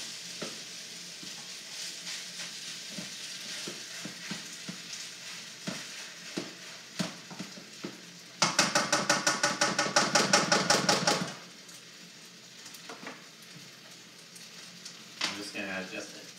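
Duck fried rice frying in a pan, with a steady sizzle under repeated scraping and stirring clinks, then a louder, denser burst of rapid sizzling and stirring midway before settling back.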